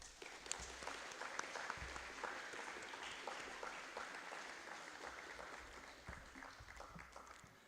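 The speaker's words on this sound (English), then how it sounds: "Let's have a round of applause to acknowledge everyone that makes this possible." A high school awards evening audience gives a round of applause, a steady, faint wash of many hands clapping that holds evenly throughout with no talk.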